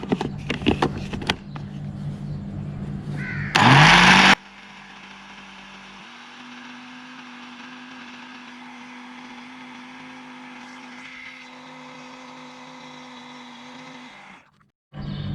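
An electric grinder pulverises dried moringa leaves into powder. A short, loud roaring burst is followed by a long, steady motor whir with a low hum, which cuts off near the end.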